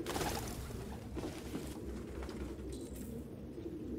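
Pigeons coo softly in a grimy indoor space in the video game Detroit: Become Human, low murmuring calls repeating under a steady ambient rumble, no talk heard.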